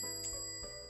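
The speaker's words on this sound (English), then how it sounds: "Suddenly I hear the loud bell sound that signals someone entering the cafe." A cafe door bell in the My Sweet Zombie game gives a quick, bright jingle, very short and moderately loud, over a soft steady background tone.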